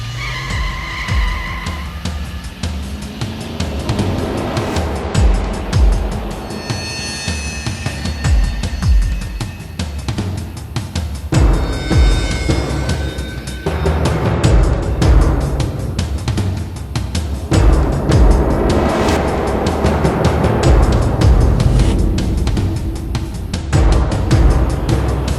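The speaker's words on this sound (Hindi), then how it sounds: "लाखन, गाड़ी क्यों रोकी?" Car braking to a stop, with tire skids and squeals over engine noise, loud and close amid a tense dramatic scene, the sound swelling and cutting in several bursts.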